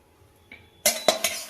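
A metal kadai is set down on a kitchen stove: a faint tap, then a sharp clanging impact followed by two quicker metallic clinks, close and clear in a quiet room.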